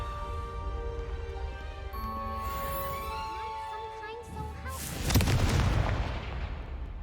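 A Confringo fire spell bursts in a Hogwarts Legacy battle, a loud broadband blast landing near the five-second mark over a bed of steady tonal game music and ambience, trailing off into a rumbling decay.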